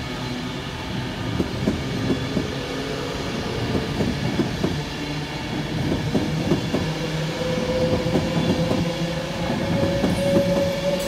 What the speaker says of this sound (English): We've got, once again, another Class 390 Pendolino in Avanti West Coast livery